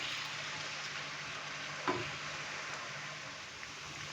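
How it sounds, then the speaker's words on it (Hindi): Potatoes for spicy dhaba-style dum aloo frying in oil, a steady soft broadband sizzle at moderate level, with one brief clink or stir near the middle and no talk. "तकरीबन 5 से 6 मिनट के लिए हमने आलूओं को फ्राई करना है"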